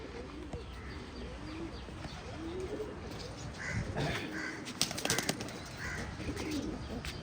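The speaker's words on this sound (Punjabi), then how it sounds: "ਕੱਚੀਆਂ ਪੀਲੀਆਂ ਅੱਖਾਂ ਦੀ ਕਬੂਤਰੀ ਹੈ" Soft, low coos from a female pigeon with pale yellow eyes repeat several times against a quiet outdoor background, with a brief flutter and rustle partway through.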